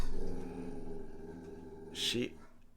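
A dog growls low and steadily, close by, for a few seconds, with a brief louder rasp near the end.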